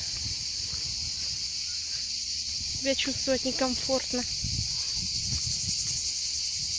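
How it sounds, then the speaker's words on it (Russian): Cicadas sing as a loud, continuous high chirring through a Crimean summer landscape near Batiliman and Laspi, steady throughout while someone speaks briefly midway and faint footsteps pass underneath. "Но цикады поют."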